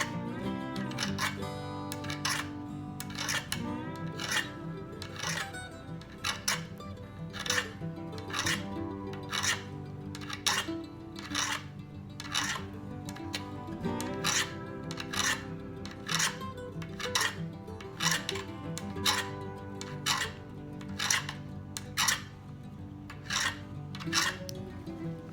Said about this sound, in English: So I'm going to go through and sharpen this all the way up.